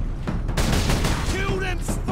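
Rapid gunfire bursts from the video game Warhammer 40,000: Space Marine, with booming shots and crackling fire filling the clip continuously, while players talk over the action.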